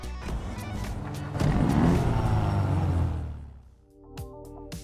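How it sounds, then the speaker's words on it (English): A Weeny Issi Rally all-wheel-drive rally car in GTA Online starts up with a loud, close engine growl that swells, holds, then settles into a lower idle with a few sharp clicks near the end. "just listen to the growl you're greeted with on startup"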